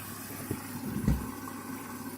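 A Candy washing machine fills with water, giving a quiet, steady rushing hiss with a couple of soft thumps partway through.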